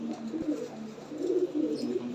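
Domestic fancy pigeons give soft, low, repeated cooing calls close by, with a faint rustle in the background and no clear voices.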